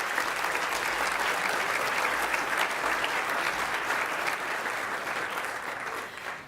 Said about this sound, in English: How about another round of applause for Adam Goods?